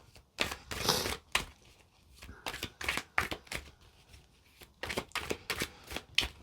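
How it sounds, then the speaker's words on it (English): Tarot cards shuffled by hand in a series of crisp riffling bursts with short pauses between them, close up and with no talking. "as I'm shuffling"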